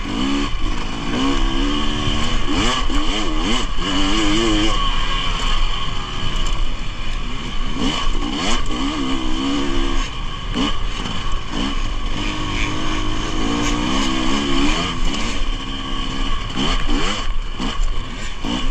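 A dirt bike rides a cold morning singletrack trail in the Pacific Northwest, its engine revving up and down through whoops with constant throttle changes and rattling, loud and close throughout.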